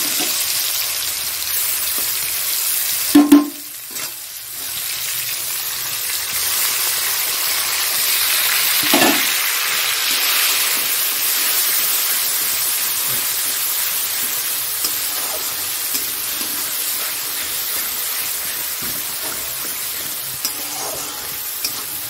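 Food sizzles and fries in oil in a pan, a steady close hiss running throughout, broken by a few clattering stirs and utensil knocks near the start and middle.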